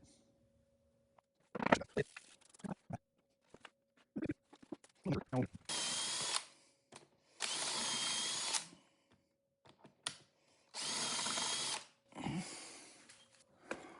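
A power drill bores into wood during cabinet building, running in several bursts of a few seconds each, separated by clicks, handling noise and quiet gaps.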